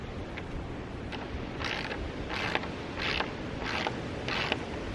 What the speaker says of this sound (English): And then lock it down with the nut on the back side.